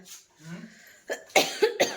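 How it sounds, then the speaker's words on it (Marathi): A few sharp, close coughs in quick succession, bursts of rough noise after a quieter stretch of faint murmuring. "आता का खोकला येतोय"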